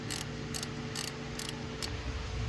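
An 8mm ratchet clicks in five quick, evenly spaced bursts while loosening a bolt beside the throttle body on a 2014 Jeep Wrangler JK engine, close up, faint and alone.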